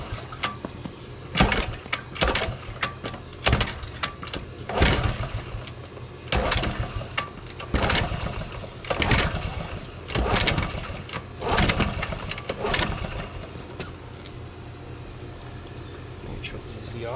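1984 Honda Z50 motorbike with the choke on being kick-started: a series of sharp, close bursts as the small engine catches and sputters in repeated attempts, with someone talking in between.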